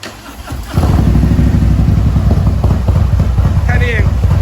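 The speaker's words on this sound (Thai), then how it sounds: "กดสตาร์ทได้เลยไม่ต้องเบิ้ลคันเร่งนะครับ" A Harley-Davidson Touring motorcycle engine cranks and catches without throttle blips, then settles into a loud, steady rumbling idle close by, with a voice speaking faintly over it.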